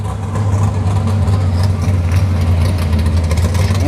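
A Firebird's engine rumbles at a drag strip during test-and-tune night, a steady loud low idle drone holding throughout without revs or bursts, with faint crowd noise behind.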